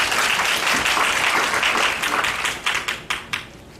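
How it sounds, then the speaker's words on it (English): A crowd applauding loudly and steadily, the clapping thinning into a few scattered claps at the end. "with a big round of applause"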